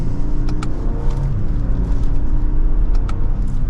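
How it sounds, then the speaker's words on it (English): A 2023 Lexus LX600 luxury SUV pulls away from second gear on the road, its engine giving a steady low rumble and road roar from inside the cabin, with a few faint clicks over it. "let's go ahead and get the all-new LX600 out on the road"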